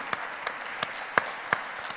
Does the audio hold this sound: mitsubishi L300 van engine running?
no